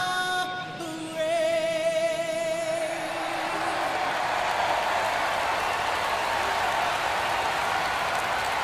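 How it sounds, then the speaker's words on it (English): A stadium crowd in the MLB The Show 22 baseball video game in Miami swells into a steady roar of cheering after a brief musical tone fades, then holds as a dense wash of noise to the end. "The crowd is amped up, ready to get this season underway"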